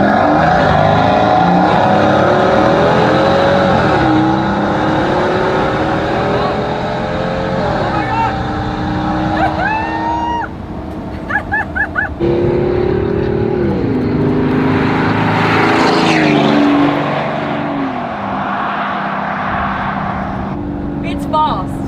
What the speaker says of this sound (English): but what you really feel is the sound from the engine